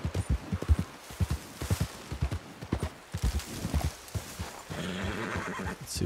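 A horse ridden in Red Dead Redemption 2 gives a loud whinny and snorts over steady clip-clop hoofbeats, and toward the end the steps carry on under a rougher rustling texture.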